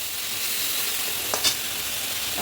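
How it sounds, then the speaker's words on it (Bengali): Spice masala sizzles steadily in a pan after a splash of water is added for a Bengali fish curry, a continuous hiss with a couple of brief louder spatters near the end. "এবার এর মধ্যে অল্প করে আমি একটু জল দিয়ে দেবো, দিয়ে মশলাটা ভালো করে কষিয়ে নেব"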